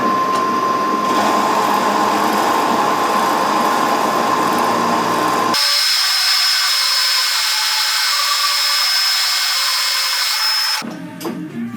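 A machine tool runs loudly and steadily while finishing the diameter of a part for a PTO-driven compressor, a constant whirring hum with a shift in tone midway and a brief drop near the end, no speech.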